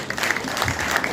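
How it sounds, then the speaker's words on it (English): A crowd at a live national primary schools music festival claps for a school, with dense, sustained applause filling the whole moment. "let us give this school a very big hand clap"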